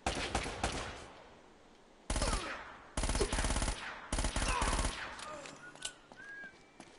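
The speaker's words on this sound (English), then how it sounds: "Oh, I'm getting shot at." Gunfire rattles through a shootout in the video game Uncharted: Drake's Fortune: loud, dense automatic bursts in several separate volleys, broken by short quieter gaps.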